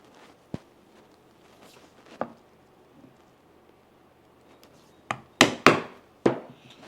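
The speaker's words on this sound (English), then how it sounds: "then I like to punch my holes and then trim down the excess" Leather watch strap holes are punched in a few sharp isolated knocks, followed by a quick cluster of louder strikes near the end over a quiet background.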